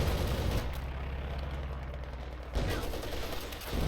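Bursts of MG-34 machine gun fire in a Company of Heroes 2 battle, loud rattling volleys at the start and again near the end, with sustained low rumble of combat between.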